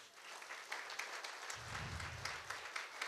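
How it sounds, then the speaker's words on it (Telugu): An audience applauds for Nagendra at a training event, producing a sustained, fairly faint wash of clapping that swells slightly midway, heard from a distance with no talk over it. "సో ఒకసారి నాగేంద్ర గారికి జోరుగా క్లాప్స్"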